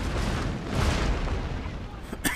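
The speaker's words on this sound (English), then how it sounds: "Okay, my artillery is still firing." Artillery fires in Shogun 2: Fall of the Samurai, a heavy rumbling boom swelling in the middle with a sharper crack near the end, loud and close.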